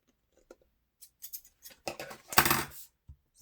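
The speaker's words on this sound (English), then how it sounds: "if it's a little long, like this is a smidge long, you can just flip it over and trim it off" A long paper booklet is trimmed at the edge. Quiet, close snips and small crisp taps lead to a denser, louder crunching cut, then a couple of faint final clicks.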